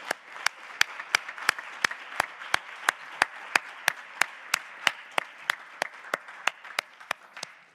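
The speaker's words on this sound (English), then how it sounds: "let's give all of our contestants another round of applause" Steady rhythmic clapping at a university Three Minute Thesis final, as contestants get another round from the audience; the sharp, evenly spaced claps sound like a few hands or one close clapper over a faint crowd.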